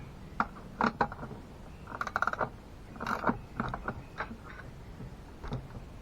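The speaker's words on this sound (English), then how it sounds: "Got me a couple wrenches and let's get it snug." Wrenches snugging nuts onto bolts while assembling a homemade deer feeder, heard as a few close metallic clicks and ratcheting bursts separated by short pauses.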